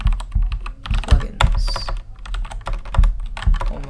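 Rapid typing on a new computer keyboard, close and loud, with uneven bursts of clacking keys and brief pauses; a voice says a single word partway through.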